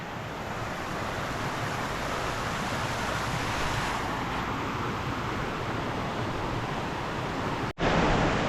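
The All Saints Waterfalls in a mountainous German forest roar with a dense, unbroken rush of falling water, loud and steady throughout, with a brief drop near the end.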